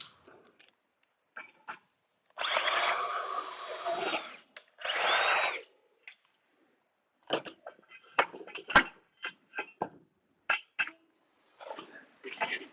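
A power drill bores a 1/4 inch hole in a metal smoker barrel in a shop, with two sustained whining bursts of about two seconds and one second, followed by scattered knocks and handling noises.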